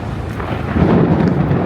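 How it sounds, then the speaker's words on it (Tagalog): A deep, rumbling roll of thunder in Kuala Lumpur swells and builds over under two seconds, heavy low-end noise without any voices. "Grabe, nakakatakot yung kulog."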